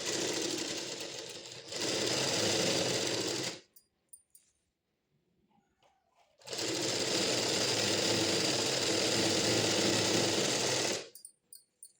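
A sewing machine stitches patiala pants in two loud, steady bursts of rapid mechanical whirring, separated by a quiet pause with faint handling clicks, and then stops again.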